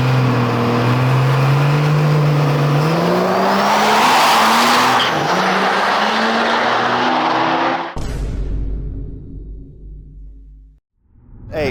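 Diesel drag truck with a compound turbo, around 1,400 wheel horsepower, roars through a loud high-revving pass with rising gear-change tones, then cuts to a second closer burst of engine noise that drops away near the end.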